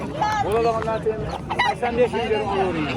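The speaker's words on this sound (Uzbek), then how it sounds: "Pastda ham bor ekan xo'roz." Roosters cluck and crow at the Quva poultry market, overlapping calls in quick bursts with market voices murmuring underneath.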